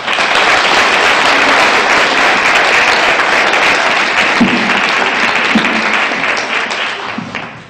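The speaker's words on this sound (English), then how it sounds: "One more round of applause for Wisconsin 68th Alice and Gabrielle Sheboygan" At a county fair, an audience breaks into loud, sustained applause that fills the space evenly, a few sharper claps standing out before it tapers off at the end.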